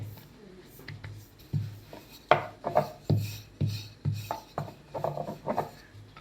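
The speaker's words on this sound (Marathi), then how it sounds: "अगदी इझिली लाटलं जातंय बघा. पीठ जर आपण चांगलं मळलं तर इझिली लाटलं जाते." A rolling pin works sweet khaja dough, making a series of soft rhythmic thumps and rubbing strokes, a few per second, close and fairly quiet.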